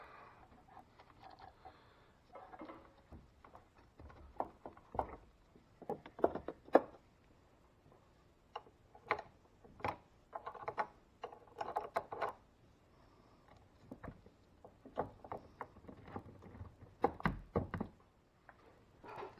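Wrenches clank and ratchet while the battery cables come off a 2000 Ford F250 7.3 Powerstroke, with scattered metallic clicks, taps and knocks in irregular bursts, close by and fairly quiet.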